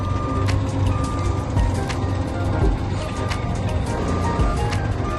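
A converted bus being driven, its reversing alarm beeping in a steady repeating pattern over a loud, continuous engine rumble, with a voice speaking nearby.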